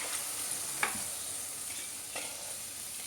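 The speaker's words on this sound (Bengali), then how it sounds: "অল্প করে একটু মশলাটা কষে নেবো, বেশি সময় কষবো না" A mustard-based spice paste sizzles softly in a pan while it is briefly sautéed, with two sharp scraping stirs cutting through the low, steady frying hiss.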